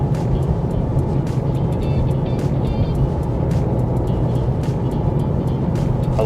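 A 2025 Ford Mustang EcoBoost Fastback with its turbocharged 2.3-liter engine, heard from inside the cabin while driving: a steady, loud low-pitched engine and road drone that holds continuously with no talk over it.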